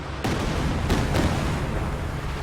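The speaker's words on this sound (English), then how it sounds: "These just explosions going off everywhere" Explosions go off amid a Company of Heroes 2 4v4 battle: a dense, roaring rumble of blasts with several sharp bursts rising out of the continuous din.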